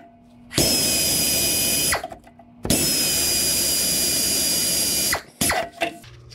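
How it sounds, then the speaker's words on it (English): A power drill bores out a seized ABS speed sensor on a 2014 Honda Pilot hub in two loud, high-pitched sustained bursts separated by a short pause, ending with brief clunks. "So, I'm gonna drill it out."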